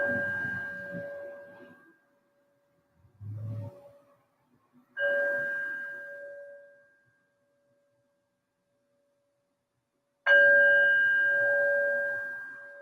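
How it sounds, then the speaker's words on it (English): A meditation bell struck three times to open a slow flow and yin yoga practice, each clear sustained tone ringing out and fading, with a soft low thump between strikes. "I'm going to ring the bell to invite us into our practice"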